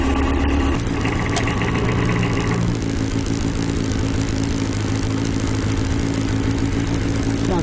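Yamaha XJ900S motorcycle engine idling steadily while warming up, running slightly rough, loud and close throughout with a brief shift in tone early on.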